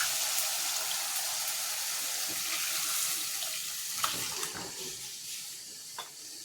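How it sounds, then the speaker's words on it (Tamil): Liquid tamarind gravy for a Chettinad-style fish curry is poured into a pan with a steady, hissing splash, then tapers off with a few soft drips and faint clinks. "இப்போ கரைச்சி வச்சுருக்க குழம்பு சேர்த்துக்குவோம்"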